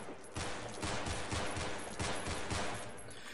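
Rapid bursts of automatic gunfire from the video game Half-Life fill the clip, a dense, loud volley of repeated shots with no pauses and no talk.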